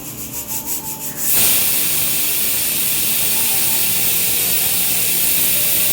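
A pressure cooker cooking green beans lets out a loud, steady steam whistle and hiss that starts abruptly after a second of quieter bubbling and rattling, then holds continuously to the end.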